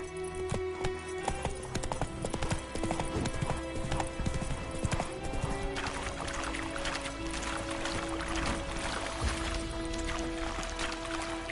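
Horse hooves clip-clop in a steady rhythm, close and fairly loud, with a faint whinny and some mixed background noise throughout.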